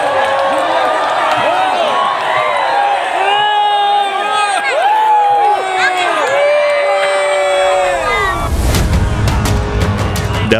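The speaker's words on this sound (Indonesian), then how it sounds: "Bupati Pati dan istrinya disoraki warga saat melintas dengan menggunakan kereta kuda dan pakaian adat Jawa" A large crowd of residents jeers the Pati regent and his wife as they pass in a horse-drawn carriage wearing Javanese traditional dress during the anniversary procession by the town square. Many voices shout and whoop loudly and continuously, swelling into a rougher burst near the end.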